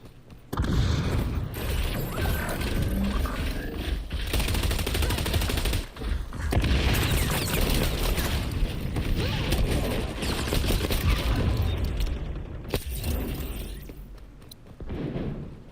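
Gunfire and a frag grenade explosion in the video game XDefiant, with dense, loud, continuous bursts of rapid shots and mechanical clatter, a brief dip, and scattered booms throughout.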